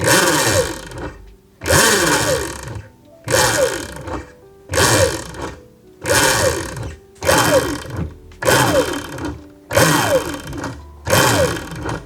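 An RC car motor in an RTR Lite fitted with spray foam gives eight or so loud, close quarter-throttle revs in a steady rhythm, each a short whining burst that winds down before the next.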